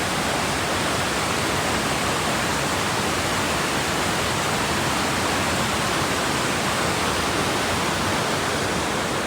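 A waterfall and stream at Old Mill Park in Roswell, Georgia, roar steadily and loudly, a constant broadband rush of water with no pauses and no voices.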